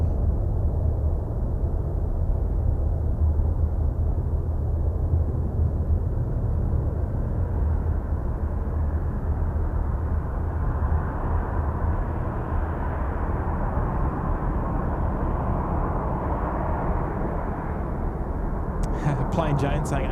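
Jet airliners at Seoul Incheon airport, a steady broad roar of engines droning continuously at middle distance, with a voice talking over it.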